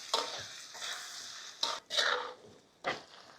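Tomato puree gets stirred into frying kaleji masala, heard as a handful of soft, close scraping strokes of a spoon against the pan with quiet gaps between them.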